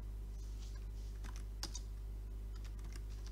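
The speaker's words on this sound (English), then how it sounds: "is typing this into the chat" Typing on a computer keyboard into Minecraft chat produces quick, faint clicky keystrokes in irregular bursts, over a strong steady low electrical hum.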